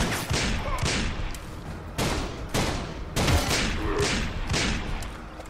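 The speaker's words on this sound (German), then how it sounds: "Das war ein Schuss zu viel." Gunshots from an old gun in the video game Call of Juarez, several heavy booming shots spaced about a second apart, each followed by a rumbling tail, close and loud over a steady background.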